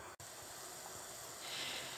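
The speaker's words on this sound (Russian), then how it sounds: "Вода у меня уже хорошо закипела." Water in a pot for pork head and trotter aspic boils on the stove, a soft continuous hiss and bubbling with a brief clack near the start and a slight rise toward the end.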